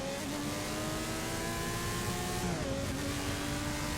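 A Jaguar XJR-9 race car engine in Forza Motorsport 6 at Spa drones steadily at high revs for about four seconds, its pitch dipping briefly as the gear changes, then climbing again, loud and continuous with no talking.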